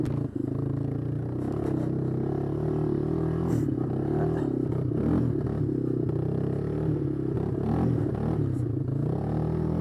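A Yamaha Moto 4 two-wheel-drive ATV engine drones steadily on a test drive, a constant low rumble with rattling and clatter over rough ground, continuous and fairly close.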